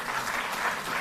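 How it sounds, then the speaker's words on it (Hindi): Steady applause from a crowd at an award ceremony honouring national athletes, dense and continuous throughout, with no voices standing out. "आप लोग जोरदार तालियों से"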